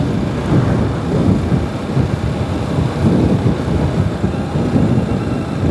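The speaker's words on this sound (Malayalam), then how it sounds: "ചെറിയൊരു മഴയുണ്ട് നമ്മുടെ ലെൻസിൽ മഴ ആയോ ഇല്ലെന്ന് എനിക്കറിയില്ല" Light rain falling outdoors beside a roadside in Thrissur, a steady dense rush of patter close by with a low rumbling undertone and no talk.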